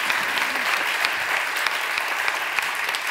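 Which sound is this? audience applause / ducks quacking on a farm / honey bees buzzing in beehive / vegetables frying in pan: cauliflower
audience applause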